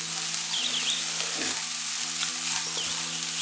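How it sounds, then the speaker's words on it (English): Dandelion roots roast in a Chinese wok, a continuous dry sizzle and crackle with faint stirring scrapes, close and steady, no voices. "roast the roots of the dandelion flower in the Chinese wok"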